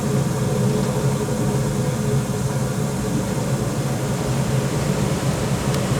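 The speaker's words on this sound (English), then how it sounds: "blower is on. Furnace is the flames on. Now it's running." A Rheem Classic Series furnace blower runs with a steady, broadband whooshing hum, constant and fairly loud throughout, with no voices.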